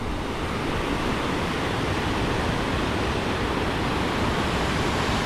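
Jog Falls roars as a steady, dense wash of rushing water, constant and loud with no pauses and no voices.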